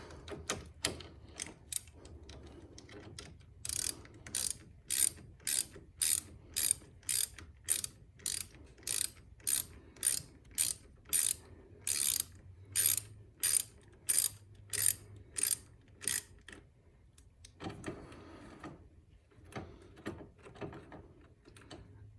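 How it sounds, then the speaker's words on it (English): A hand ratchet loosens the brake pedal bolts on a Can-Am Spyder F3 motorcycle, producing a long run of sharp, evenly spaced clicking bursts, close and loud, with a brief pause before a final few strokes. "Okay, we're going to remove both bolts."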